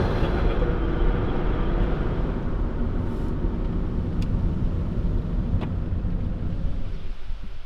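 A car drives along a road toward a harvest pickup, with steady loud engine and road rumble throughout and a couple of faint brief clicks.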